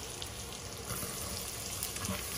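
Onions and celery fry in a pan for a vegan mince dish, a steady, fairly quiet hiss of sizzling with faint crackles throughout and no speech.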